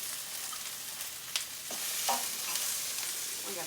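Pre-chopped peppers and onions sizzle in hot coconut oil for a barley stir fry, a steady close frying hiss with a few soft clatters as they are stirred.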